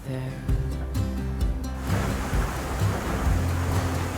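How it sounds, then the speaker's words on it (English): Wind gusts across a sailing boat in Ramsey Sound: a broad, loud rushing roar builds abruptly partway through and holds steady, with low rumbling underneath and some faint earlier sounds before the gust. "Oh, we got some wind, Julie."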